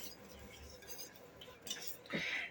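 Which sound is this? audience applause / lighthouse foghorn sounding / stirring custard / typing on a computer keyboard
stirring custard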